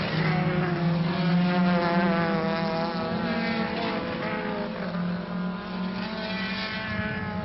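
Race cars from the 2007 Brasileiro de Marcas touring championship roar steadily past at speed, a sustained loud engine drone with shifting pitch, lasting the whole stretch without any talk.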